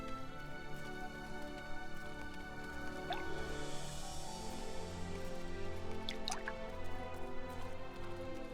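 Water drips steadily in the mines of Moria in the online game Lord of the Rings Online, scattered plinks over a constant low ambient drone, with no talk.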